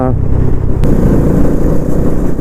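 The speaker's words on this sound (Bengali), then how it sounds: "এই হচ্ছে কুয়াশার মধ্যে দিয়ে আমাদের সব বাইক যাচ্ছে।" Several Bajaj Dominar 400 motorcycles ride in a group through thick fog on a highway, their engines a loud, continuous close-up drone with a sharp clack partway through.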